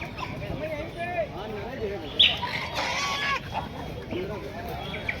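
Chickens cluck and squawk among geese and chicks at a crowded pet and animal market in Lucknow, with steady background noise and people talking over the birds.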